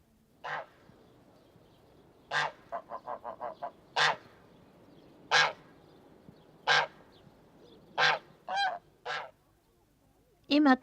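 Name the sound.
geese honking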